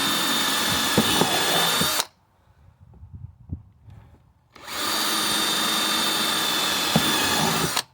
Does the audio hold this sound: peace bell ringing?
no